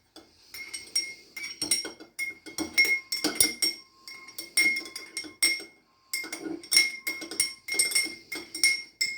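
A metal spoon stirs red cabbage indicator in a glass, giving repeated bright clinks and scraping taps against the sides in quick bursts, close and fairly loud, with short pauses between rounds of stirring.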